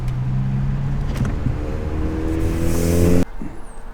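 Audi A3 engine fitted with an APR open intake pulls hard under acceleration, a loud, close, steady drone with rising harmonics that cuts off abruptly near the end.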